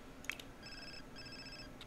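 An in-game telephone rings in The Sims 4, a faint electronic ringtone in two short pulsing bursts over quiet background hiss, with no talk over it.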